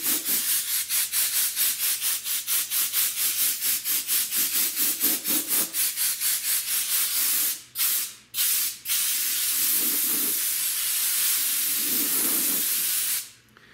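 Compressed air blasts flaky rust off a metal piece in rapid repeated hissing bursts for about seven seconds, followed by a few separate puffs and then a long continuous hiss, all close and with no talking.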